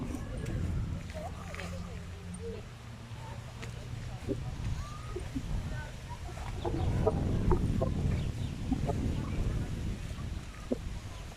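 Chickens cluck softly and intermittently in the background, with faint shuffling and someone talking nearby over them.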